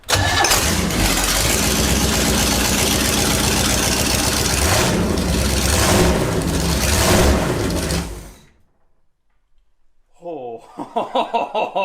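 A vintage 1970s big block jet boat engine cranks and fires into a loud, close, rough idle for about eight seconds, then cuts off; people talk excitedly once it goes quiet.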